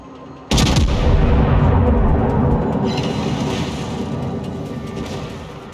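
A heavy naval gun salvo from the battleship Wyoming in World of Warships booms loudly and suddenly, then rolls into a long, slowly fading rumble that lasts several seconds.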